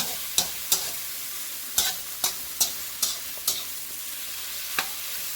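Vegetables cook in a pan with a soft, steady sizzle, broken by about nine sharp clacks of a utensil stirring against the pan at irregular intervals, close and fairly quiet.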